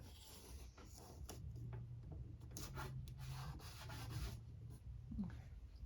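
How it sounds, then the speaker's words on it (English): Glue being wiped off a wooden model wall with close, steady rubbing strokes that rasp back and forth at moderate volume, with no talking. "I'm gonna wipe my glue off first."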